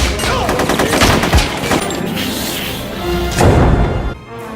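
Gunfire from the X2: X-Men United film rattles in loud rapid bursts, mixed with crashing impacts and dense action noise.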